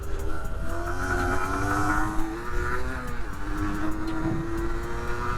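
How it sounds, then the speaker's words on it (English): A 1982 Honda MTX 50cc motorcycle engine holds a steady, buzzing drone while riding in sixth gear, its pitch rising and falling slightly as the throttle shifts, loud and close with no talk. "So many gears for a little 50cc bike like this."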